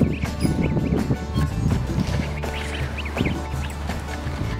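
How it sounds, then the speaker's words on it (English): Three baby geese peep in quick, high chirps that repeat in small bursts, close by over a busy background rumble and soft rustling, with no one talking. "So these are my three baby geese."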